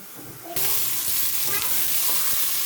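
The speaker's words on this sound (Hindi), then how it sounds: "अब ये मैं प्याज ब्राउन करने लगी हूँ।" Two onions brown in ghee, starting with a faint hiss that jumps to a loud, steady sizzle, with occasional soft stirring scrapes underneath.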